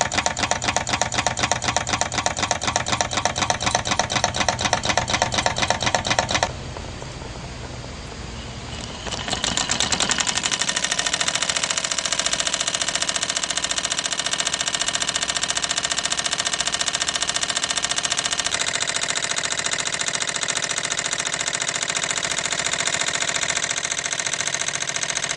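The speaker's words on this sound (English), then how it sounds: "This person created a Stirling engine made out of soda cans and a candle." A small Stirling engine built from soda cans and heated by a candle runs with a fast, even mechanical ticking. After a short quieter break, a steady dense whirring hum takes over and carries on.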